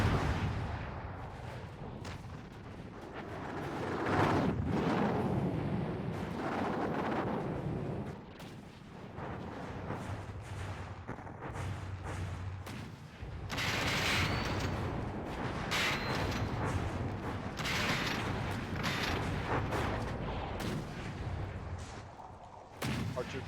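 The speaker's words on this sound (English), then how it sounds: "Our torpedoes are doing good work. Huge bits of the ship are coming off." Torpedo hits striking an enemy ship in the naval combat game From the Depths, a continuous roar of heavy booming explosions and rumbling impacts that swells and dips throughout, loud and dense with no voices over it.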